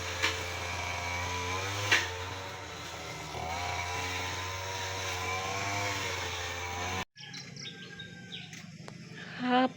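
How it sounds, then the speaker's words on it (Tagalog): A loose-sounding grass cutter runs behind a house, a steady, fairly loud motor drone with birds and insects audible around it for about seven seconds before the sound cuts to a quieter, different background. "At saka meron pong nag-grass cutter po dito sa likod na."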